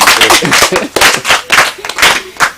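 Scouts at a camp site clap for a guest in a few loud, rhythmic bursts of group clapping, close by, with short gaps between each burst.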